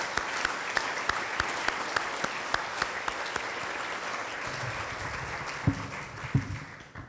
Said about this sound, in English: Each and every one of you deserve a tremendous round of applause and appreciation